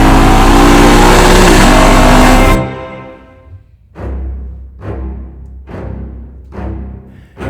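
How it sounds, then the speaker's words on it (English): A Lexus LC500 with a naturally aspirated V8 roars loud and sustained at high revs, then cuts off. Four or five rhythmic blips follow, each revving up and falling back, close and alone. "The LC500 is naturally aspirated V8 luxury charm at its best"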